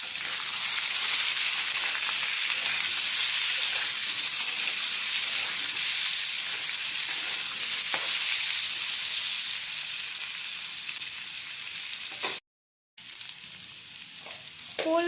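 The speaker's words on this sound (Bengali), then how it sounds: "ওল আলু একটু ভেজে নেব।" Steamed elephant foot yam and potato fry in hot oil in a pan for a prawn curry, a loud, steady sizzle with occasional stirring that briefly cuts out near the end.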